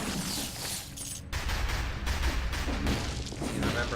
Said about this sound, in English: Blast cannon.